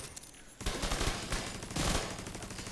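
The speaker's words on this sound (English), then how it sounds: "Pull out the pistol." Rapid pistol fire crackles in the shooter game The Division 2, a quick loud string of close shots that picks up after a short quiet start and keeps going with no talk over it.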